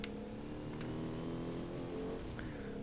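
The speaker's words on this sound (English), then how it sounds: "because these engines are quite loud" Racing vehicle engines from the video game Fuel hum and drone steadily, a sustained mid-level motor tone without clear revs, heard alone with no talking.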